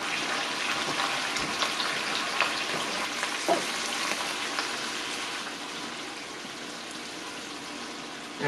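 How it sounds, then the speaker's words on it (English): Spicy beef sauce with added water simmers and sizzles in a pan, a dense steady crackle and bubbling that stays close and fairly loud, with a few soft clicks of stirring. "we're just going to cook this a little bit until the sauce thickens up"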